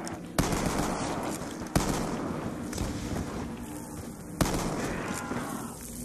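Loud shotgun blasts in a multiplayer shooter's Grief mode, three sharp reports spaced a second or more apart over constant rumbling gunfire and game noise.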